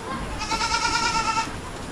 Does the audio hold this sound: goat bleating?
yes